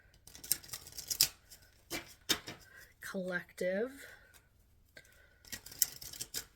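Tarot cards being shuffled by hand: quick papery riffles and soft flicks in uneven bursts, close by, with a person talking over and between them.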